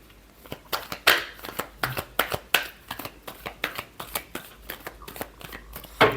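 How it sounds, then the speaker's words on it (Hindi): A deck of tarot cards is shuffled by hand during a reading, giving close, crisp riffling bursts and flicks in a quick uneven rhythm, with no talk over them. "Last shuffle."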